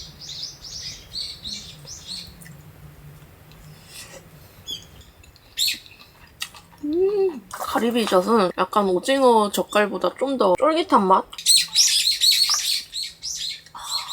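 Birds chirp and tweet repeatedly nearby in quick bursts in the morning at a wooded campsite in Buan, South Korea, while a person talks over them.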